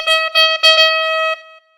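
A pitched sample run through heavy distortion in FL Studio, shaped to imitate a saxophone, plays a few short bright tonal notes and then one sustained buzzy note before cutting off, loud and up close with no talking.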